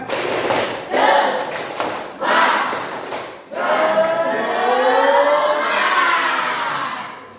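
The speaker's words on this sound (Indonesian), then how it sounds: "Ice breaking-nya yaitu tepuk semangat." A class of children performs a 'tepuk semangat' rhythmic clapping ice breaker, several sharp claps and chanted shouts at first, then a sustained burst of excited group clapping and cheering in a classroom.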